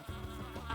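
Toy bees in a children's game give off a short, faint insect-like buzz that lasts under a second, with no voices over it.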